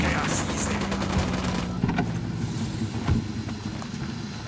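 Sustained automatic gunfire in the video game Ghost Recon Wildlands, a dense rattling barrage with engine rumble underneath and voices talking over it.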